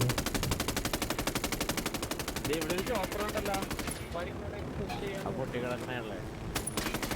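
Rapid bursts of gunfire in the video game Ghost Recon Wildlands rattle continuously, with a fast machine-gun rhythm that thins into scattered shots and game effects toward the end.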